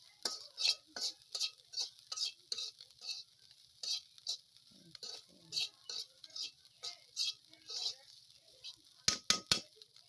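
Dried shrimp frying in a pan, stirred in a steady run of scraping, clinking strokes with a sizzle underneath, close and fairly loud, with a few sharper knocks near the end.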